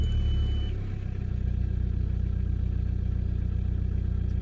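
A modified VW Polo engine is switched on, its starter cranking briefly before the motor catches and settles into a steady, close, low idle rumble that continues to the end.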